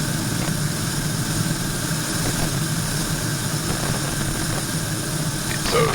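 A Cessna 172 light aircraft engine drones steadily at close range, a continuous low, even hum inside the cabin with no talk, swelling slightly near the end.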